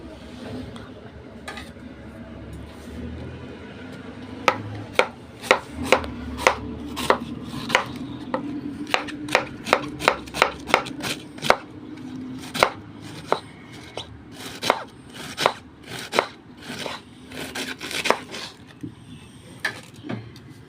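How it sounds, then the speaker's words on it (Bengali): A knife chops thinly through capsicum on a board for vegetable spring rolls, giving a long run of sharp, close, regular taps that speed up into quick bursts, with no talking. "খুব সুন্দরভাবে কেটে দিয়েছি ক্যাপসিকাম। খুব পাতলা পাতলা করে কাটবেন"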